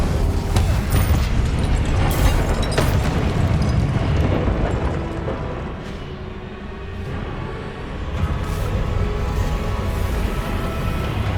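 A roaring, rumbling burst of magical fire from the Incendio spell in Hogwarts Legacy, broad and sustained, swelling, dipping briefly and rising again amid other spell effects.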